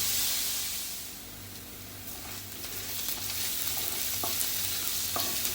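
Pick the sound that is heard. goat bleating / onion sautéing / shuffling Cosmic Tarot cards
onion sautéing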